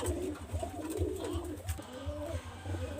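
Pigeons coo steadily at close range in a rooftop breeding loft where quality pigeons, including females, are kept; repeated low rounded coos overlap one another in a soft rhythmic chorus, with faint chirps and calls above them.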